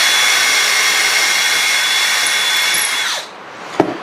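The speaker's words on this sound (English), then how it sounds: "I'm going to drill a hole all the way through this" A power drill bores a hole straight through live-edge black walnut in a woodworking shop, a loud steady whine that holds for about three seconds, then spins down, followed by a sharp knock.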